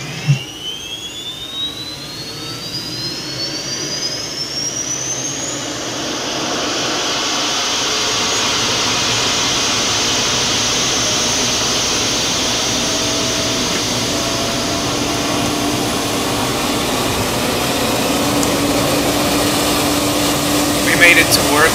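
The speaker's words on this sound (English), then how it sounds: "APU exhaust is located on the right side of the aircraft body fuselage, and if we go to the right side, you'll hear that exhaust." Steady broadband rushing of APU exhaust air from a CRJ-200 in a flight simulator game, heard outside on the right side of the fuselage, rising in after a brief onset and holding loud and constant to the end.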